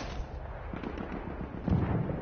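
Distant gunfire in a Battlefield 1 match, a muffled burst of low booming shots that swells louder near the end, with no talk over it.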